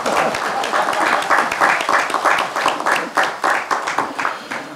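A crowd claps and applauds at a Democratic Party (더불어민주당) political event, a dense, loud, steady round of clapping sustained throughout with no speech over it.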